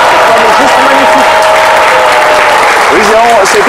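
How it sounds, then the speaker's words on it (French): Loud, dense applause in a French midday radio or TV show studio, with tonal sounds and voices riding over the clapping. "ça mérite de très chers applaudissements"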